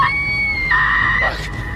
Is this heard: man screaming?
yes